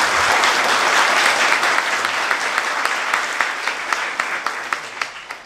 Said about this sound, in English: please thank and give a warm round of applause to our athletes